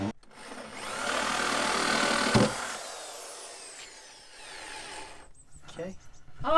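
A power drill bores a hole through the body of a van during a UK campervan conversion, a loud steady grinding whine for over two seconds that then stops, leaving quieter workshop noise.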